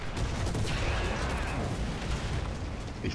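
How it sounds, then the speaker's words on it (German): A heavy SMK tank cannon fires in a War Thunder battle, a dense, rumbling boom with sustained low roar filling the whole moment, loud and close without pause. "Ich schieße jetzt einfach."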